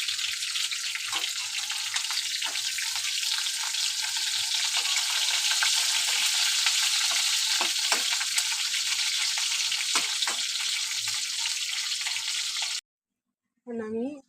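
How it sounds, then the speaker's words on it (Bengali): White cumin seeds hit hot oil in a pan for tempering, giving a loud, steady, dense sizzle that continues for several seconds before cutting off, followed by a brief voice. "এখন আমি অল্প সাদা জিরে ফোড়ন দিয়ে দিলাম।"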